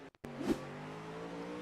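Race car engine in a racing video game, revving steadily with a sustained mid-pitched drone after a brief cutout, swelling briefly early on, close and continuous with no talk.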